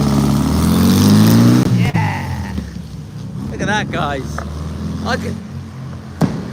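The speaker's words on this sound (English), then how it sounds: "He's got a hole in his exhaust." A 1967 car with a holed exhaust revs loudly close by, then fades, leaving a couple of sharp pops as people talk over it.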